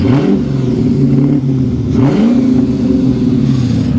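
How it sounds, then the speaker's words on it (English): An MG ZT 260 with a V8 engine running without back boxes idles with a deep, loud burble, then revs up sharply in a rising roar and drops back to a throaty idle, close and alone. "So this is the car, this is how it sounds without back boxes"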